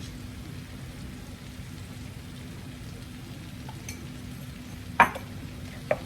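Cumin and chili powder being stirred in a pan, a steady low sizzling hiss with a couple of sharp scraping clicks of a utensil near the end, close and fairly quiet.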